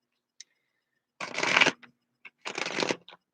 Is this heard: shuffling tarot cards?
yes